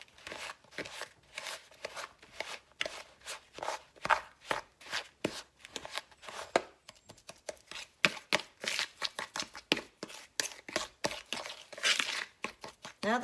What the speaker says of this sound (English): take our fork and just sort of mash in that softened butter to all that brown sugar